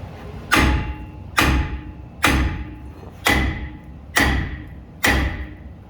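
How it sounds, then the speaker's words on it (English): A hammer strikes the front brake rotor of a 2017 Ford F-150 six times in an even rhythm, each blow a loud, close metallic thud that rings briefly before the next. "You can just hit it with the hammer. It should come out."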